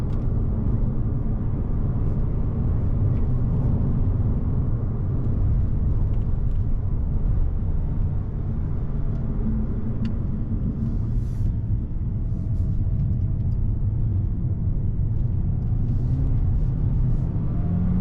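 A VW Golf 8 TSi with an 8-speed automatic climbs the Genting hill road, its engine a steady loud rumble and road drone heard from inside the cabin, with no talking.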